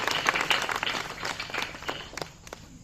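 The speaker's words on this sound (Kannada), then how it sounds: "ಮತ್ತೊಮ್ಮೆ ತಾವೆಲ್ಲ ಜೋರಾಗಿ ಚಪ್ಪಾಳೆ ತಟ್ಟಿ ಅವರಿಗೆ ಅಭಿನಂದಿಸಬೇಕು" An audience claps loudly to honour L. Shivalingappa, a Mysore painter and writer, at a ceremony. The dense applause thins into scattered, fading claps after a couple of seconds.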